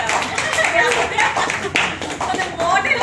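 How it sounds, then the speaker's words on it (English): Audience applause for a model showing a product at a product-launch event, steady clapping throughout with voices talking and cheering over it. "So let's applaud for Sara."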